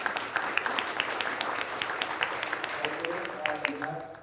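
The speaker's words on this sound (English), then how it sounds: "applause for you guys and our nice speakers" Audience applause after a machine learning for health conference panel, with dense clapping throughout and some voices chatting over it near the end.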